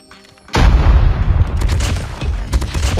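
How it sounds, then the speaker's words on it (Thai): A loud explosion bursts out in the Call of Duty Mobile video game, a heavy boom followed by a sustained rumbling roar with crackling gunfire-like bursts layered on top. "เฮ้ยระเบิด"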